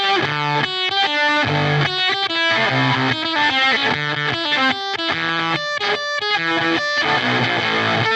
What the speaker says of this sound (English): you can already hear it adding compression and saturation, and we essentially have a very fuzzy sound here